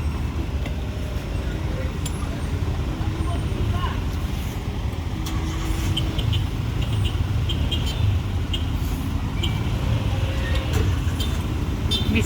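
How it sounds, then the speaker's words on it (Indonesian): A large truck passes close by in a severe traffic jam on the Sitinjau Lauik mountain road, its low engine rumble steady beneath the constant hum of idling vehicles and road noise. "Tahan lagi, ada truk ya, truk besar."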